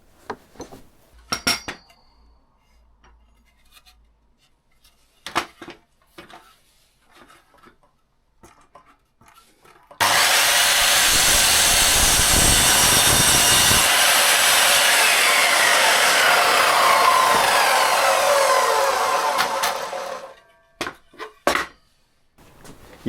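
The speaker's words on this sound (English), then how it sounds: "I sometimes just remove the ends with a miter saw." A miter saw slices the ends off pallet wood boards, one long steady whine of roughly ten seconds, loud and close, framed by scattered clicks and handling knocks before and after.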